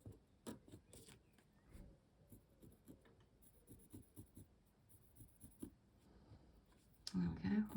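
A pencil lightly traces around a leaf shape on fabric, giving soft, faint scratching strokes beneath a person talking quietly, followed by a louder rustle at the end.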